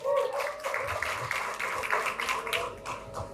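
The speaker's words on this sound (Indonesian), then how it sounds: "Kita kasih tepuk tangan untuk Abraham" Moderate applause from an audience at a provincial language ambassador pageant, a steady ripple of many hands clapping, mid-distance and fairly soft, continuing evenly throughout.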